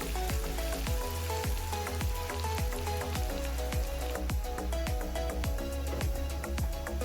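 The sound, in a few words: cassava frying in hot oil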